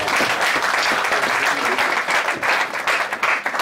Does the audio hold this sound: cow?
no